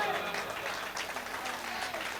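Mushaira audience in Kamthee clapping in a broad, even wash of applause, with some voices mixed in underneath.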